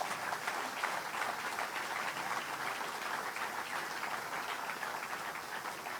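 A crowd at a VMRO-DPMNE political rally in Skopje Centar claps in sustained, even applause, a dense patter of many hands heard from a moderate distance.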